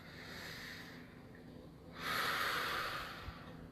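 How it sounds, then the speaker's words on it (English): Slow, deep breath, a soft airy rush that swells louder and brighter partway through, then fades, close and alone with no talk. "Take a deep breath."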